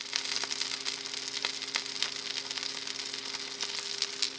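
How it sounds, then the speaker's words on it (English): A bagel and an egg fry in pans in a steady, close crackling sizzle with dense pops over a low hum, no talk. "There was much tempting sizzling going on."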